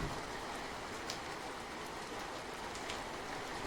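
Steady, dense hiss of heavy rain pouring continuously outside a half-collapsed hut with a leaking roof, with a few faint sharper drops or taps breaking through.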